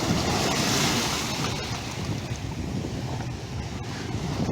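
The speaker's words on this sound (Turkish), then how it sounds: "Sürekli dalga geliyor falan." Waves break on a Black Sea shore in a continuous rushing wash, with gusty wind buffeting the microphone throughout.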